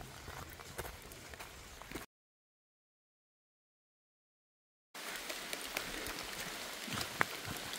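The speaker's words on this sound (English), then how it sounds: "But it's just rainy today." Steady rain falls on a hiking trail in West Virginia, a soft continuous patter of drops at moderate loudness, broken by a few seconds of silence.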